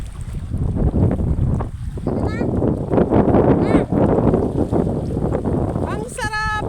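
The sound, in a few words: wind blowing at the seaside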